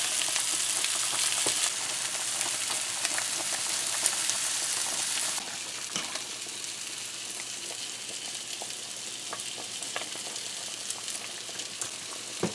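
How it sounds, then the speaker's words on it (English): Meatballs browning in a hot frying pan give a steady, dense sizzle and crackle throughout, easing slightly partway through, with scattered sharp pops and no voices. "you're going to try to brown these as all around as possible"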